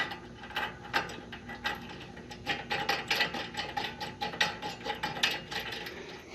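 Steady rapid ratchet clicking as a bolt is tightened during assembly of a Victory offset ditch bank flail mower, a close, fairly loud run of repeated clicks and mechanical rattles with no talk.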